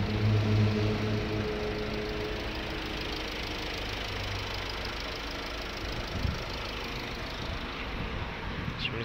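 A 2001 Renault Megane 1.6 16V petrol engine idles in a garage after a jump start, with a steady close mid-pitched hum and a slight knocking roughness, loud and unbroken with no talk.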